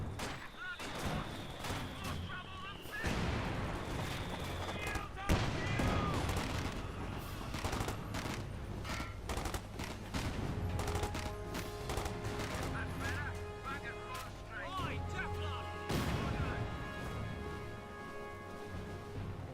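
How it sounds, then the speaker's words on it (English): Cannon and MG34 machine gun fire from a Company of Heroes 2 battle, dense bursts and heavy booms rolling continuously at moderate volume beneath a commentator's voice. "The cannon warfare and MG34 being employed by Magenta, probably help lock down this region"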